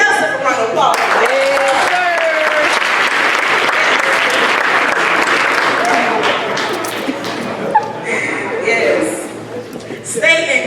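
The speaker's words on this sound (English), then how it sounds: "give yourself a round of applause" A college senior assembly audience gives the class a loud, sustained round of applause with cheers, fading toward the end as a speaker's voice returns.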